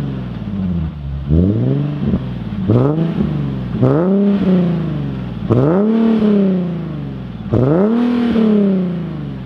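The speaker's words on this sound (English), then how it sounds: "It's a Top Speed Pro mufflers and a MotorDyne Y-Pipe. Here's how it sounds." An Infiniti G37 sedan with Top Speed Pro mufflers and a MotorDyne Y-pipe revs repeatedly, about five sharp rising blips with a smooth, throaty exhaust note that settles back to idle between them, loud and close.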